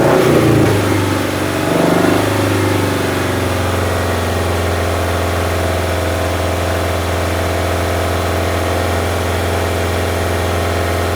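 Car engine in a home garage revved when given gas, loud at first with a rising surge, then settling into a steady, held higher-speed drone for several seconds without talk.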